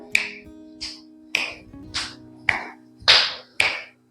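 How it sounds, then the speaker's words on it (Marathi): Sharp hand claps during a yoga exercise, hands striking alternately in front of and behind the body, seven loud distinct claps at a steady rhythm of roughly one every half second, close and clear over faint background tones. "पुढे आणि मागे या पद्धतीने क्लॅपिंग करायचे आहे"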